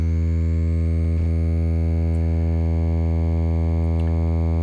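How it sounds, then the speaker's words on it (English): A steady, buzzy synthesized tone from a CMOS 1-bit FIR filter, resembling asymmetrical distortion, with rich harmonics drones loudly and unchanging, broken only by a brief glitch early on. "it creates a sound that's similar to asymmetrical distortion"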